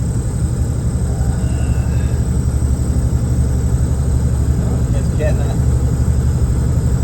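A heavy truck climbs a hill in the Adelaide Hills, its engine a steady low drone with the engine fan whirring throughout, loud and close from inside the cab, with no talk.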